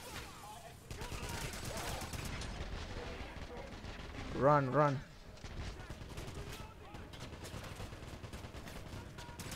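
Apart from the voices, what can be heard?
gunfire in Wolfenstein video game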